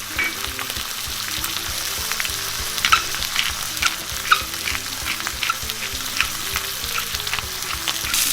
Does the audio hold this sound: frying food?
yes